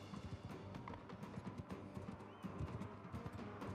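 Horse hooves pound steadily in Mount and Blade 2: Bannerlord, a fast, rhythmic clip-clop of a charge that carries on throughout, close and moderately loud with no talk.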